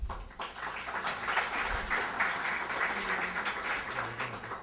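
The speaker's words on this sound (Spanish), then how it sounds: "Los recibimos con unas fuertes palmas" Conference attendees at a 2013 international arbitration congress clap to welcome speakers, a soft, even wash of applause from a seated audience lasting a few seconds, with no talking over it.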